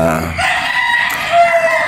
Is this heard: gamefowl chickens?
yes